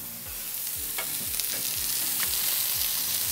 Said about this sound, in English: You can also put one wrap already on the grill.